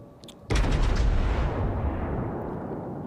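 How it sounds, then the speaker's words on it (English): Battleship front guns fire in the World of Warships video game, a single sudden heavy boom that rolls out into a long, deep rumbling decay. "And I take the shot, just the front guns."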